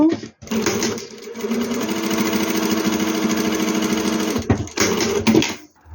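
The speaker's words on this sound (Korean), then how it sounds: "중심을 먼저 1cm로 재봉을 해주시고" A sewing machine stitches a sleeve seam on a women's training top, its rapid mechanical whirr running steadily for several seconds, stopping briefly, then restarting in short bursts.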